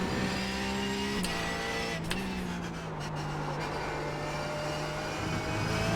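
A race car engine in the iRacing sim, loud and continuous, holding a steady drone with shifts in pitch as the revs change, plus a brief gear-change dip.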